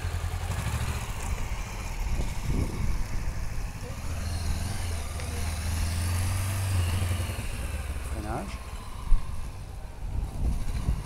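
A motorcycle accelerates during a training exercise at a riding school for the A2-to-A licence upgrade, its engine a steady, close drone with wind noise and a brief clatter near the end.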